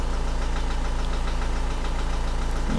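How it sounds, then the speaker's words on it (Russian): A Renault Trafic 1.9 dCi diesel idles steadily with a rapid, even knocking pulse running through it, heard from close by inside the cab with no talk over it. "Такой звук, как будто что-то грохочет в двигателе."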